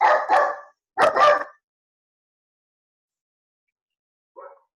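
Dogs bark in two quick pairs of sharp barks, close and loud, followed by silence and then one faint, distant bark.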